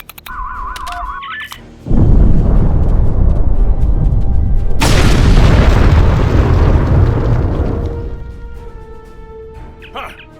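A loud, sustained explosion booms and rumbles in the video game Star Trek Online, then slowly fades over several seconds after a short electronic beeping intro.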